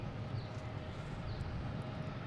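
JetBlue jet airliner arriving at Boston Logan from Aruba: a faint, distant, continuous engine rumble with a low, even drone and no voices.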